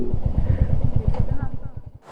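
A motorcycle engine idles close by on a roadside near a waterfall, a steady rapid thumping pulse that stops abruptly near the end.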